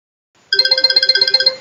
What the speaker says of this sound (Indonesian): Ketika Anda mendengar dering telepon, segera angkat gagang telepon